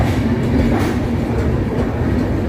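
A double-decker train rumbles past at Coimbatore junction, a loud, steady, close roar of rolling wheels with faint rhythmic rail clatter.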